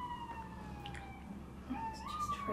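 An emergency siren passes outside during an indoor interview, a faint, distant wailing tone sweeping steadily downward and then rising again, muffled through the walls.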